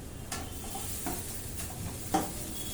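Sabudana (tapioca pearls) tipped into a pan of hot oil and sautéed for Maharashtrian sabudana khichdi, giving a steady low sizzle with a few scraping stirs and one brighter clink near the end, close and fairly quiet.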